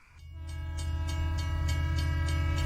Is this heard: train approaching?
yes